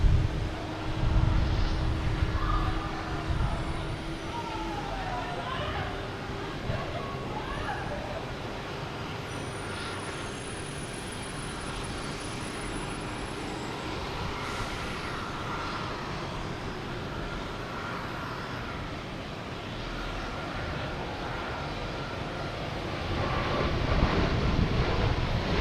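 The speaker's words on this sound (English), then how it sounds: "we have Delta taking off, and A321neo heading to Phoenix" A Delta Airbus A321neo taking off from Boston Logan for Phoenix, a broad, rumbling engine roar holding steady and swelling slightly at the end, mixed with general airport and road traffic noise, no voices over it.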